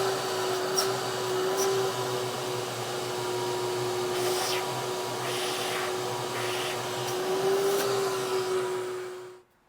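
A Giraffe Tools wall-mounted retractable vacuum cleaner runs steadily and fairly loudly up close, a constant hum and whoosh with a few faint clicks, then cuts off at the very end; no one speaks.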